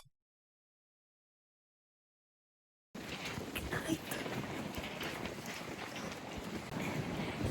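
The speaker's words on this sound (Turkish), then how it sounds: "Öyle bir rüzgar var bu arada." After a few seconds of silence, strong gusty wind buffets the microphone with a loud, continuous rumble.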